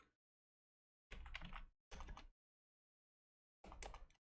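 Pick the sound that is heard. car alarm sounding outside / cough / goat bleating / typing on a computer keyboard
typing on a computer keyboard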